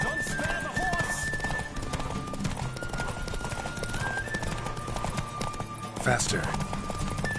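Horse hooves clip-clop at a steady galloping pace in The Witcher 3, with occasional neighs and whinnies over a busy game soundscape, while a voice talks throughout.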